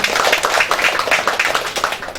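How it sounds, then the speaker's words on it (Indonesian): Steady applause from an audience at a provincial PKK family-welfare administration competition assessment event in Riau, dense and continuous clapping for a couple of seconds without a break. "Tepuk tangan ibu."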